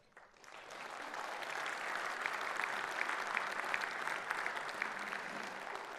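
Conference audience of nearly 3,000 participants applauds at an opening session in Marseille, a dense, steady wash of many hands clapping that swells in after a brief start and holds, heard from within the hall.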